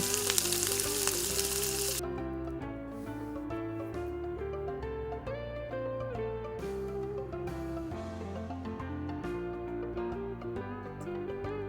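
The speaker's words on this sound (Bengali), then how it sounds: "এদিকে আরেকটা কড়াইতে তেল গরম করে প্রথমে আলুগুলোকে ফ্রাই করে নেব।" Steady hiss of potatoes frying in hot oil in a kadai, strongest in the first couple of seconds, with music playing throughout.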